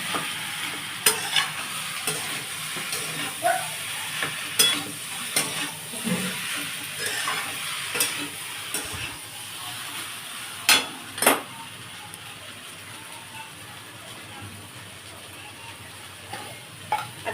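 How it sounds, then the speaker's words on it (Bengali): A spoon stirs cumin powder in a frying pan, making soft sizzling with repeated scrapes and sharp clinks against the metal, close and fairly loud, with no talking. "এবারে আমি নাড়ছি এতে।"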